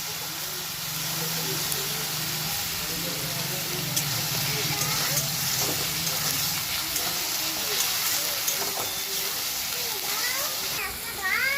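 Ginger paste hits hot oil in a frying pan while rui fish kalia is cooked, making a steady broad hiss that runs throughout as a voice talks over it.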